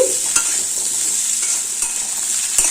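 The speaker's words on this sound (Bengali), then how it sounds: "এবার কেটে রাখা কুমড়ো দিয়ে দিচ্ছি কুমড়ো আর আলু খুব ভালোভাবে মিশিয়ে দিচ্ছি" Potato and pumpkin pieces frying in a pan, stirred steadily with a steady hiss of sizzling oil and a few sharp scrapes of the spatula, close and continuous with no talk.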